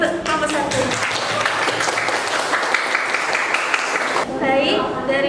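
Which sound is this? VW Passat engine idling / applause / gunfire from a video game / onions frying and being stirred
applause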